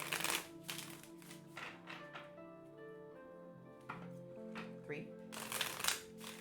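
Repeated papery riffling bursts of tarot cards being shuffled, several in a row, with a calm voice speaking between them and faint tonal music underneath.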